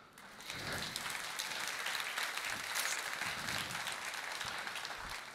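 Applause from a church congregation swells quickly and holds steady as dense clapping, with a few louder individual claps near the end.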